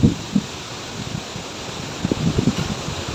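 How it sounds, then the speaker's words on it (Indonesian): Strong wind gusts through an outdoor vegetable garden, a steady rushing roar broken by buffeting thumps against the microphone, loudest at the start and again toward the end. "Cuacanya angin kuat"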